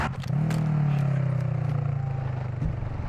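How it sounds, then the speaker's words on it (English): Steady engine roar from vehicles in the video game Call of Duty DMZ, a low droning rumble that holds loud and close for the whole stretch with a brief dip near the end. "I'm sick of listening to the roar of engines."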